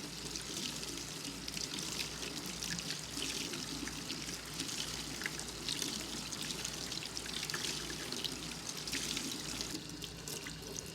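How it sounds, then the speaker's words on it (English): Warm water from a tap runs steadily over makeup sponges, a continuous close splashing stream with no talking. "We're gonna run the sponges through some warm water."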